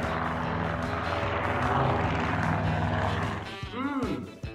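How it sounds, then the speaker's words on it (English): An airplane engine roars loud and steady with a broad rushing drone that fades and wavers near the end as the aircraft passes. "Airplane. Great! An airplane."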